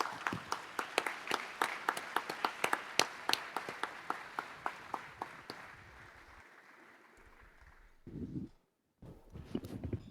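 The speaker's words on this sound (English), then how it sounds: "you deserve another very, very big applause" Applause at a business congress panel session starts as sharp, distinct claps that gradually thin and fade away, followed by a pause and a brief stir of sound.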